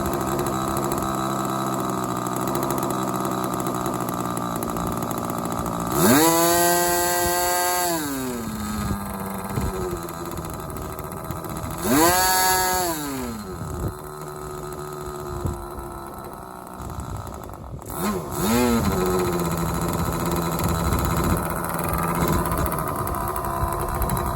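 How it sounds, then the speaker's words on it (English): A small model glow engine idles steadily in a high, buzzing drone, with several short revving surges rising and falling before it settles back to a smooth idle. "Got a good idle, very good idle."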